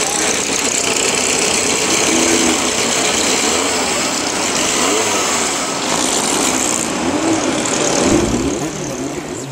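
About 22 race cars idle together on the starting grid at Willow Springs, California, during a big-bore racing event, making a loud, steady, continuous engine rumble that fills the clip.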